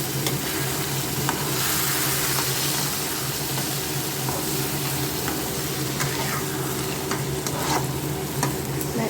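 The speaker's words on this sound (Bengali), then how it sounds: "মুগ ডাল ভিজিয়েছিলাম, ভেজে করছি" Soaked moong dal frying in a pan for sabudana khichdi makes a loud, continuous close-up sizzle with scattered small clicks of stirring, over a faint low hum.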